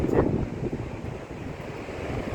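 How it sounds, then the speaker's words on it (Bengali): A waterfall cascades down along the Manimahesh trek, a steady rushing roar under wind buffeting the microphone, with no talk. "অসাধারণ একটা ঝর্ণার জল নেমে আসছে নিচে"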